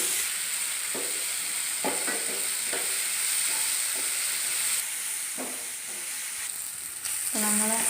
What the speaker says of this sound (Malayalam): നല്ല ചുമന്ന കളറാകുന്ന വരെ നമുക്കൊന്ന് ഇളക്കി കൊടുക്കാം.